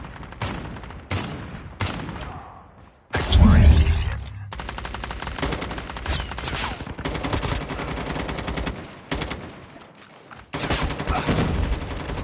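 Rapid automatic gunfire from Call of Duty Mobile, loud bursts of shots and heavy impacts running almost without pause, layered with game effects and no talk.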